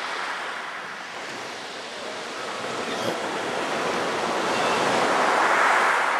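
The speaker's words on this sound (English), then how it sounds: "Big swell." Big sea swell rolls along Dorset's Jurassic Coast, heard from a sea kayak as a continuous broad wash of surf and wind that builds gradually louder toward the end.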